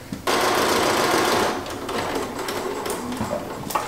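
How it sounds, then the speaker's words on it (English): Overlock serger running at speed on dress fabric seams, a loud, close, continuous mechanical whir that starts abruptly and then eases to a slightly lower, uneven drone. "I'll come over here and serge them both at the same time"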